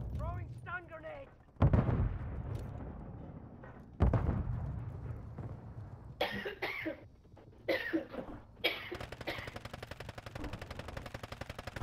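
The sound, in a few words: stun grenade and gunfire in a video game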